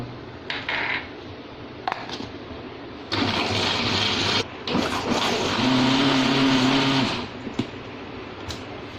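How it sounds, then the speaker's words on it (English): A kitchen blender purees mango into a smooth paste, its motor whirring loudly in bursts, stopping briefly and starting again, then running steadily with a strained hum before cutting off. "Now we blend the mango until we get a nice smooth paste."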